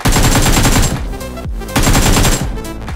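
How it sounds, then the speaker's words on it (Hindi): Rapid gunfire in BGMI, the mobile battle royale, comes in two loud, close bursts of quick repeated shots, each with a short echoing tail. No voices are heard. "मैं शॉटगन चला दूंगा।"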